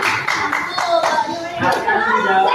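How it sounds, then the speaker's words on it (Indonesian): Clapping for a group in a classroom or training session, a handful of claps over voices talking and chatter, fairly close and loud. "tepuk tangan untuk kelompok 3"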